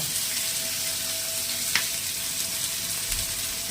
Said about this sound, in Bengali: হালকা করে ফ্রাই করে নেবো এটা হালকা ফ্রাই হয়ে গেছে পেঁয়াজ রসুন আদা টমেটো কাঁচা লঙ্কা